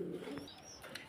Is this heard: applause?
no